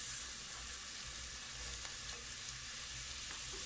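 Onions frying in a little oil in a pan for a sundried beef stew, an even, continuous hiss of sizzling with soft stirring, fairly quiet and close, with no talk.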